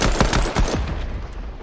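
Rapid gunshots from pistols in a first-person battle royale-style video game, several loud, sharp reports in quick succession at the start, then fading into a low rumble of game ambience.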